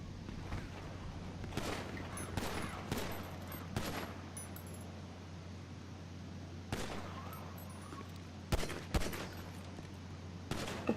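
Gunfire in the online video game GTA V Online, scattered single shots and short bursts popping at moderate distance over a steady hum, with a few sharper, nearer cracks toward the end.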